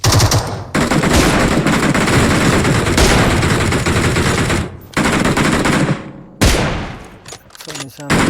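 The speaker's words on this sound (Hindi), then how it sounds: "यहाँ से कुछ गोलियों की आवाज़ आ रही है" Automatic gunfire in the mobile game BGMI, continuous rapid bursts that are loud and dense, broken by a couple of short pauses near the end.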